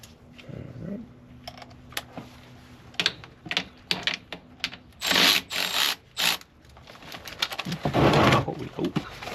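Ratchet loosening a bolt underneath a RAM truck, rapid clicking bursts with pauses between them, close by, with a few faint rustles and clanks from handling around it.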